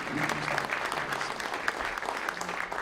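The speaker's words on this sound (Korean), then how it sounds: "다시 한번 하나님께 감사와 영광의 박수 올려주시기" A congregation at a New Year prayer breakfast claps in steady applause, a brief even patter of many hands heard from a distance.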